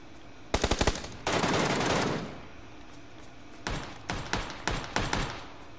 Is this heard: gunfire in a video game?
yes